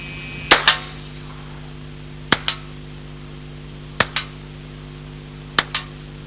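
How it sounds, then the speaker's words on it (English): A 1977 Alan Halla experimental prototype low-recoil submachine gun with open shoulder stock fires four single semi-automatic shots, each a sharp crack with a quick echo, spaced over several seconds against a faint steady hum. "Semi-automatic action first."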